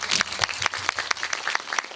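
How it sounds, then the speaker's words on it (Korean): An audience at a Korean stage musical talk event applauds, with clear separate claps close by in a brisk, uneven rhythm for a couple of seconds. "박수 한번 다시 부탁드립니다."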